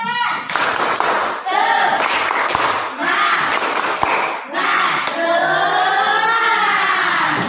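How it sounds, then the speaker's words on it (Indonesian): A school class doing the rhythmic 'tepuk semangat' clapping chant, loud patterned bursts of hand claps alternating with children chanting in unison, close and energetic throughout. "coba kita tepuk semangat dulu"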